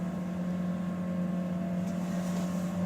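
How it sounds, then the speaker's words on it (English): A pump moving sparge water from a hot liquor tank back into a mash tun during home brewing, a steady close motor hum with a constant tone and no breaks. "pumping my sparge water from my HLT back into the mash tun"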